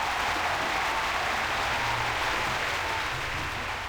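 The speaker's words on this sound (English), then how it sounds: "How is there a large enough crowd to have this response and April has never heard of these guys?" In The Longest Journey video game, a crowd applauds with steady, dense clapping that stays loud and unbroken throughout.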